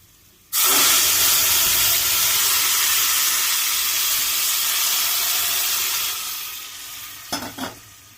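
Water poured into a pan of fried vermicelli for semiya upma just after the stove is switched off bursts into a loud, sudden sizzle, then a long hissing rush of steam that slowly fades, ending with a couple of light clinks.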